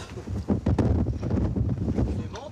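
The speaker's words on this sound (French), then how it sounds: "il y a du vent." Wind gusts buffet the open deck of a cruise ship on a chilly summer morning, rough, uneven blasts striking the microphone, with faint voices mixed in.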